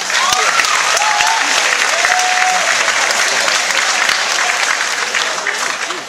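Enthusiastic audience applause for an award winner at a ceremony, steady loud clapping filling the room, with a few voices and whoops rising above it before it slowly tapers.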